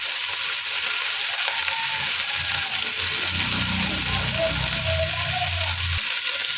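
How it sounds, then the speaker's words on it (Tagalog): Tomato paste going into a pan of frying biryani base, a loud continuous sizzle with low bubbling and stirring sounds swelling in the second half, alone without talk. "maglalagay na ako dito ng tomato paste"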